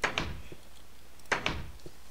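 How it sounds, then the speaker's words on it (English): Two quick door sounds in Minecraft, each a pair of sharp clacks followed by a softer thunk, about a second apart, close and moderately loud. "Did not like that door."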